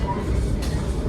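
The Ciremai passenger train rumbles along near Padalarang, a steady, heavy low roar of wheels and carriages close by with a brief brighter hiss partway through.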